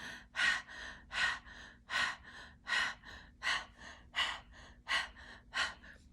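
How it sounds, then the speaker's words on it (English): Rapid, rhythmic open-mouthed panting, about nine breathy huffs in steady succession, close and clear with no talking. "just like a dog when they breathe, when they're panting in the sun, you can start with your mouth open"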